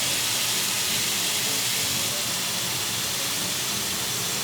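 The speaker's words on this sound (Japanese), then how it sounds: "塩コショウをなじませるようにこう炒めていきます" Minced meat seasoned with salt and pepper stir-fries over medium heat, giving a continuous, even hiss of sizzling with no distinct breaks, close and steady.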